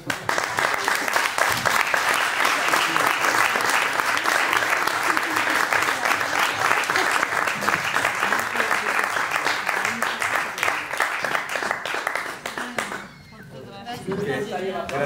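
Sustained audience applause closes a rural-future round-table debate, dense and steady for about twelve seconds, then briefly dips before swelling again.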